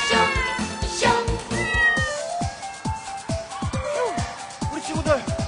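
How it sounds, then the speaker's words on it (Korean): A cartoon cat meows and caterwauls loudly in a children's animated show about mice hiding in cheese, with repeated drawn-out yowls over music and a voice talking. "고양이가 나타났어요."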